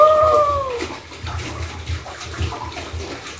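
Tap water runs steadily while hands are rinsed underneath, a close, continuous splashing rush that shifts slightly as the hands move through the stream, with no talking.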